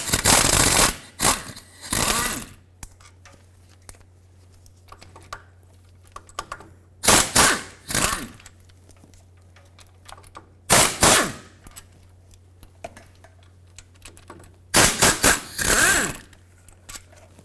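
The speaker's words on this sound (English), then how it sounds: "Now let's take these 4 bolts off. They're all 15mm in size." 15mm bolts being removed from the differential of a 1997-2003 Ford F-150, likely with a power ratchet or impact tool: several loud bursts of rapid rattling whirring separated by quiet pauses with a faint steady hum, close by.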